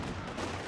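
Cannon and gunfire from a T-34 tank and an AT gun clash during a 4v4 Company of Heroes 2 battle, a dense, loud burst of explosive noise lasting under a second.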